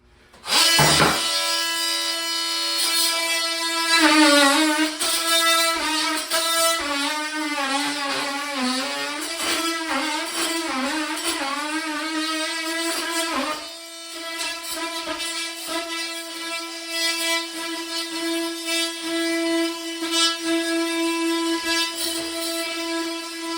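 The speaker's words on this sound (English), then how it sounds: "try to rip out the drywall and the tile at the same time" Drywall and tile being ripped out together in a small bathroom renovation, a loud, continuous grinding and scraping roar with harsh tonal whine, nearly constant throughout with a brief dip midway.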